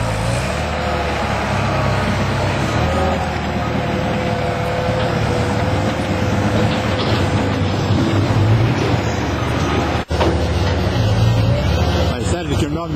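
A TF830B matting machine's engine runs at low RPM with a loud, steady rumble and drone that continues throughout, close by, and a voice talks over it much of the time.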